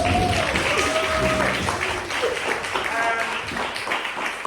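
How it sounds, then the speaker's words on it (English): An audience at a health inequalities network event gives a round of applause, loud continuous clapping filling the room, with voices mixed in over it. "Let's give them a round of applause."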